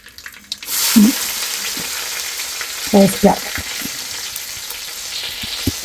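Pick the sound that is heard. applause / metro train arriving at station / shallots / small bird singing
shallots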